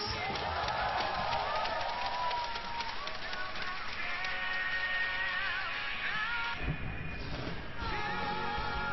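Crowd cheering and roaring in the arena during an esports semifinal match, a dense continuous wash of voices with a commentator talking over it.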